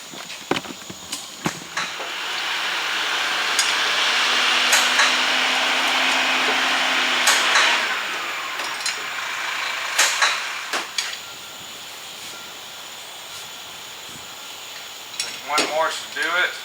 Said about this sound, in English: We're taking our dent puller, and we are pulling out the center of that dent